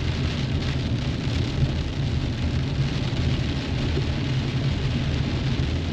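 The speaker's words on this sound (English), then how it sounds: "Well, folks, it's still raining." Steady rain pours down on surfaces outdoors, a dense continuous hiss of drops at an even level with no voices.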